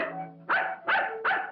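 A dog gives three sharp, evenly spaced barks close by, after a short whine.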